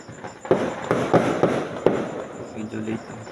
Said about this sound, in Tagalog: Medyo late lang po ang fireworks natin.